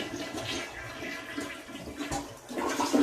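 A household toilet flushes in a steady rushing wash of water, fairly faint and heard alone, swelling slightly louder at the end.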